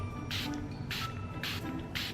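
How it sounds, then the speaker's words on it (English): A spray bottle mists in four short, evenly spaced hissing bursts, close by and moderately loud. "Just need to spray it"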